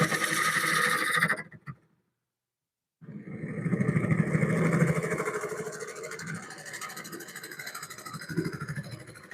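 A wood lathe spins a bowl blank while a spindle gouge cuts a tenon, a rough, buzzing cutting noise that stops briefly, then resumes loud and slowly fades.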